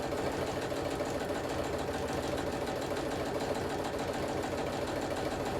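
A sewing machine runs continuously, stitching a tacking stitch around the edge of fabric close to the seam line, a steady mechanical whir and rapid rhythmic clatter with no pauses.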